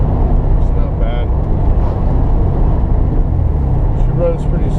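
An older Nissan 300ZX with a rebuilt engine cruises at about 45 to 50 mph, giving a steady loud engine and road drone inside the car with no change in pace.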